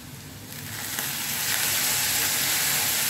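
Bitter gourd frying in oil gets a splash of water, and the steady sizzle swells into a loud, bright hiss that builds over the first second and a half and then holds.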